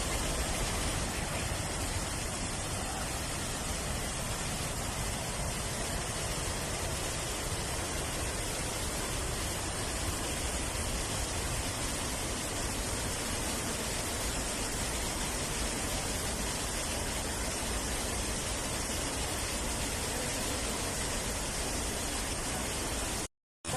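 Haew Suwat waterfall in Khao Yai National Park, Nakhon Ratchasima, Thailand, roars as a steady, dense broadband rush of falling water, loud and unbroken throughout with no voices.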